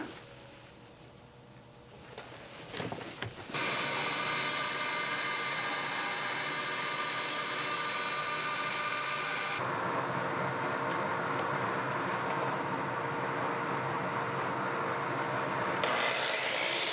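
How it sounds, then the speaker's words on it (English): Router table squaring the ends of a koa guitar neck: after a few soft knocks, the router spins up to a loud, steady high whine, then its tone shifts and continues strongly to the end. "Square up the ends on the router table"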